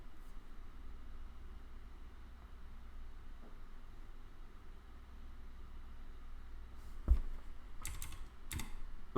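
Quiet, soft keyboard typing over a low steady hum, with a few sharper, louder clicks and taps near the end.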